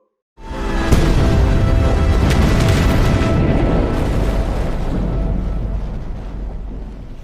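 A loud cannon blast from a warship in a naval battle erupts suddenly, followed by a long, rumbling roar that slowly fades over several seconds.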